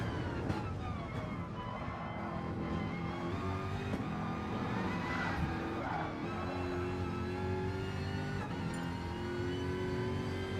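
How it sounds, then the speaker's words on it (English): Jaguar GT3 race car engines roar in Gran Turismo at the Dragon Trail Seaside circuit, a sustained droning whine with rising and shifting harmonic tones as several cars run together, loud and continuous. "Like the sound of those Jags."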